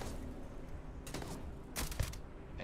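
Gunfire in the space game Starfield, shot through a small window: a few sharp bursts near the start and a louder cluster of cracks just before the end, over a steady background hum.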